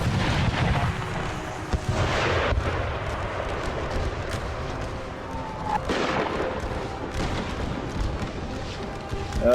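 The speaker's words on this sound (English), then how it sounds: "That was a good artillery strike there" Heavy artillery strikes rumble and boom repeatedly in an American Civil War mod battle set in a burning forest, with scattered musket gunfire and distant battlefield noise continuing throughout.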